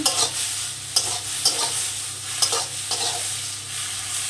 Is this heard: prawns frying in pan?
yes